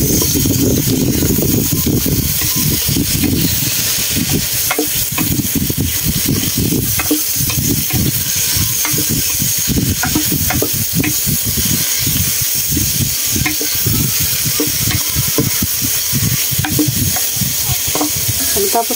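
Bitter gourd sautéed with egg and ground meat crackles loudly in the pan as a utensil stirs and scrapes repeatedly, the sizzle continuous and close under frequent sharp clatters.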